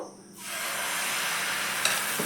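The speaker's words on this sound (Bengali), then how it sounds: "এবার দেখো বন্ধুরা, এই প্যানের মধ্যে 1 হাতা ব্যাটার দিয়ে দেবো" Semolina batter hits a hot frying pan with a sudden, steady sizzle that swells after a short quiet start and holds loud and close, with a faint clink near the end.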